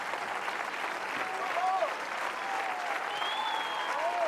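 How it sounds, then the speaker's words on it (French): An open-air crowd at a Champ de Mars orchestral concert applauds steadily, a dense even wash of clapping with faint whistles and cheers on top, while a commentator's voice runs softly underneath. "place aux artistes qui reviennent pour des saluts, eh bien, devant le public qui les acclame ici au Champ de Mars"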